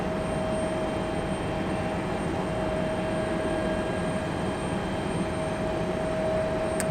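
A Frontier Airlines jet taxiing at Raleigh-Durham airport gives off a steady, broad engine roar with a thin constant whine running through it, heard from a moderate distance and unchanging throughout, with no voices.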